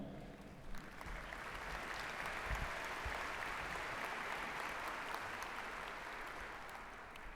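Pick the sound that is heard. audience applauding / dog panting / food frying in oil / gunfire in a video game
audience applauding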